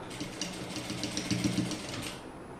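A sewing machine stitches fabric for a child's crop top and skirt, running as a steady, close, rapid mechanical whirr throughout with no voices.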